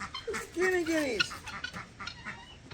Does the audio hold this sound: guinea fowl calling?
yes